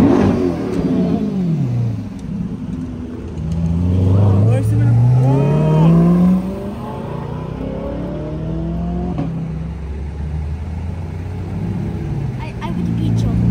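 A black car revs its engine at Daikoku Parking Area in Yokohama, loud rising and falling revs passing nearby amid other engine noise, while people talk over it.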